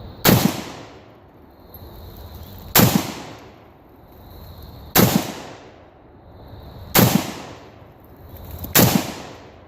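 Five slow, evenly spaced 7.62 rifle shots fired through a muzzle nut, each a loud sharp crack with a short decaying tail, about two seconds apart outdoors.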